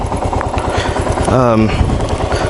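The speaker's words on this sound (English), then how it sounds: "While we're letting my KLR 650 year 2006 warm up" A 2006 Kawasaki KLR 650 motorcycle engine warms up at idle, a close, steady thumping throb under a voice talking over it.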